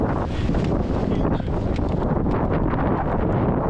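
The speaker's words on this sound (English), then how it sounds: "I got a crosswind gust right as I was taking off" A crosswind gust buffets the microphone during a speedflying launch on a hillside, a loud, continuous rumbling wind roar with rough surges and no clear speech.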